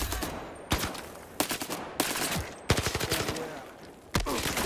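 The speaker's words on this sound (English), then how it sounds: "We're taking fire!" Gunfire in the VR shooter Zero Caliber VR: repeated sharp shots and short bursts crack out at irregular intervals over about five seconds, fairly loud with a trailing echo between shots, and no voices.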